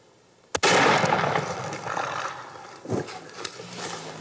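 Rifle shot fired at a crippled elephant outdoors, one sudden loud crack followed by a long rolling echo and rumbling tail, with faint thuds after.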